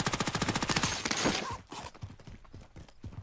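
Rapid automatic gunfire rattles in a video game, a fast even burst of close, loud shots that breaks off and then continues as sparser, softer rounds.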